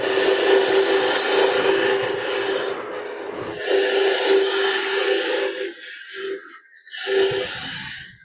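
Ornamental tree wood from a garden spinning on a wood lathe at 1200 RPM as the bottom is flattened for a candlestick: steady close scraping and rubbing of the tool against the wood, easing off and cutting in again toward the end.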